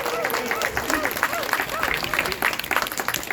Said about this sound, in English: Certainly appreciate that round of applause